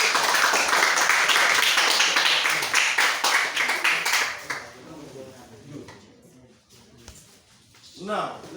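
Audience clapping during a table tennis club quiz, a few seconds of brisk applause that tapers off, followed by scattered voices and quiet room murmur.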